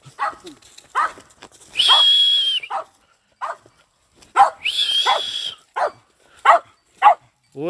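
A dog barks close by in short sharp bursts, with two longer howling yelps mixed in, during a release of a tamandua and other animals at a rural ranch.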